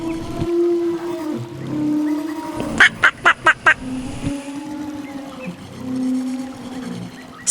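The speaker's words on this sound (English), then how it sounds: "Duck, duck." A duck quacks five times in a quick, evenly spaced run. Soft background music plays before and after the calls.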